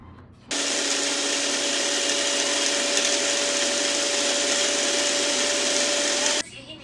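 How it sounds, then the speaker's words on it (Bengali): An electric blender grinds poppy seeds, almonds and sour yogurt into a paste, starting abruptly with a loud, steady whirring roar that holds constant for about six seconds before cutting off. "1 চামচ পোস্তদানা এবং 2 টেবিল চামচ বাদাম এবং 3 টেবিল চামচ আমরা টক দই দিয়ে এই পুরোটা ব্লেন্ড করে ফেলব"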